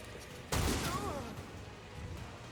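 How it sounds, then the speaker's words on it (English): Ship guns in the Warhammer 40K Rogue Trader video game open fire with a sudden loud burst that rolls into a sustained rumbling fusillade. "Who activated the fucking guns?"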